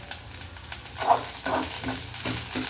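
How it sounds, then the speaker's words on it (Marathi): Masala and fresh coriander sauté in hot oil as they are stirred, with a continuous sizzle broken by several distinct scraping strokes about half a second apart. "आपण त्यात कोथिंबीर ॲड करूयात आणि छान परतूयात"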